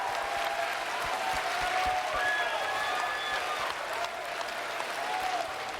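A crowd at the PAX East 2019 gaming convention applauds and cheers, steady dense clapping in a large hall, somewhat distant, with a few whoops rising over it.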